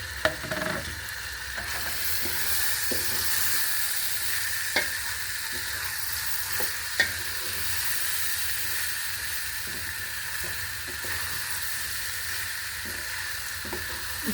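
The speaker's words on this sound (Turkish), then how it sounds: "Birazcık da bulgurla çevireceğim" Bulgur being stirred as it fries in a pot for pilaf, with a steady sizzling hiss throughout and occasional soft scrapes and clicks of a spoon against the pot, close and alone.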